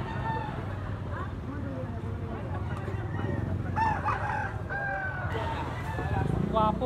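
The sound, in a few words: rooster crowing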